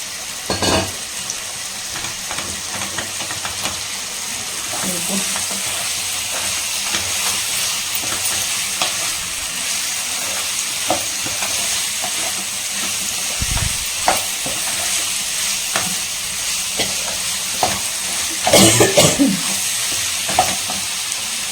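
Potatoes frying in hot oil in a pan while being stirred, a steady loud sizzle with scraping strokes and occasional louder bursts of spattering, no voices.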